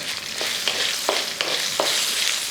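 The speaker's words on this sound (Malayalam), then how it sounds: "ഇതേപോലെ പച്ചമുളകും കറിവേപ്പിലയൊക്കെ ഇട്ട് ഇന്നോടൊന്ന് ഇളക്കി" Green chilies and curry leaves sizzle in hot oil for lemon rice, a close, steady crackle broken by several soft scraping stirs.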